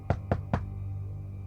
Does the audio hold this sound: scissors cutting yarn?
no